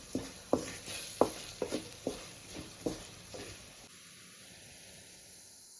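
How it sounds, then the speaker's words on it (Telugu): Spice powders for a fish curry fry and get stirred in a pan, with a soft sizzle under a series of sharp spoon scrapes and taps in an uneven rhythm that stop, leaving only a low hiss. "ఇది బాగా వేగాలండి."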